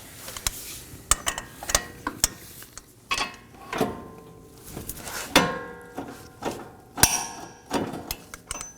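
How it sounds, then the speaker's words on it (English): A torque wrench tightens the front axle nut on a 2020s Toyota Corolla to 159 foot-pounds, giving a string of irregular, close metallic clicks and ratcheting knocks with short pauses between bursts. "We're going to torque this down to 159 foot-pounds."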